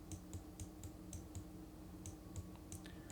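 Typing on a computer keyboard: soft, irregular key clicks spaced a fraction of a second apart, fairly quiet and close, with no voice over them.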